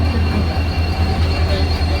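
Heavy, steady rumble of a train arriving at platform two of Guwahati station close by, low engine drone with faint wheel squeal above it, no talking.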